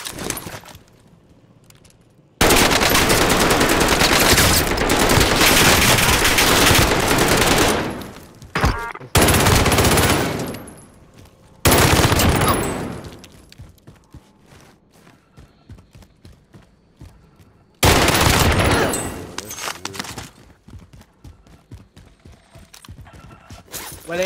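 Loud, close bursts of rapid automatic gunfire in the shooter game Call of Duty: Modern Warfare, several long sustained volleys separated by short quieter gaps with scattered single shots.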